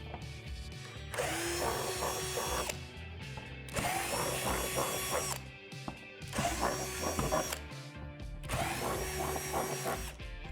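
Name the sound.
power drill drilling holes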